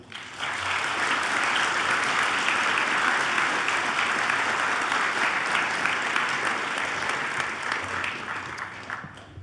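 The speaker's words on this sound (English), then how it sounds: "Give your family members in your life a round of applause right now" Banquet audience at a Good Citizen Day awards event giving a round of applause, clapping swelling in quickly, holding loud and dense, then tapering slightly near the end.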